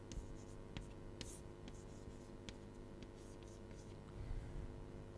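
Pen or chalk writing during an engineering lecture on calorically perfect gas, a quiet scratching of short strokes and taps spread across the stretch over a low room hum.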